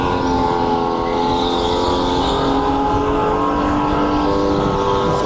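A racing kart engine drones loud and close at a steady high pitch throughout a race heat, with no talk over it.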